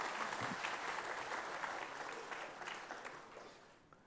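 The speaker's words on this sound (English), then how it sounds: "please give the team a big round of applause." Big round of applause from the audience at an agricultural research foundation day award ceremony, dense crowd clapping that is quiet and distant, steady and then gradually fading away.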